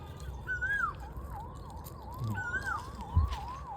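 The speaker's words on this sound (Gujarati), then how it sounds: "એમ્બ્યુલન્સ ગાડી એમ્બ્યુલન્સનો અવાજ" A faint ambulance siren wails at a village fair, its tone warbling up and down steadily, with two brief rising whoops standing out over low background noise.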